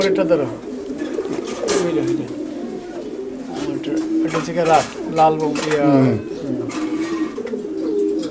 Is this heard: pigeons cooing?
yes